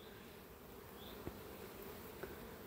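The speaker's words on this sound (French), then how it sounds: "C'est super, hein, le bruit qu'on entend au rucher et voir les abeilles voler" Honeybees fly around hives at an apiary, a steady low insect hum with no voices, broken twice by brief closer buzzes as single bees pass near.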